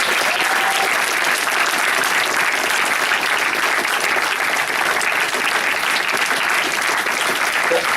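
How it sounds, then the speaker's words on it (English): Big round of applause from an audience of boys and girls, dense continuous clapping that stays loud and even throughout, with no talking over it. "give a big round of applause"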